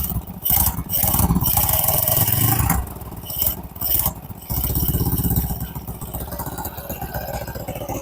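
A Honda Blade motorcycle engine runs during a carburetor throttle adjustment. It holds a close, loud, uneven idle that dips and surges several times, mixed with clattering and scraping from tools.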